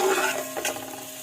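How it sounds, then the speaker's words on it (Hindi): Onions drop into hot ghee and are stirred, giving a brief, close sizzle with a soft scraping of the spoon through the pan. "घी गरम करके इसके साथ ही मैं इसके अंदर प्याज ऐड करूंगी।"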